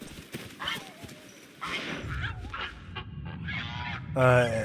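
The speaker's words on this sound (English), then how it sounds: "A goose." A goose honking in the village of the video game Where Winds Meet, a loud nasal honk near the end amid game ambience and clip-clopping, with a voice speaking earlier.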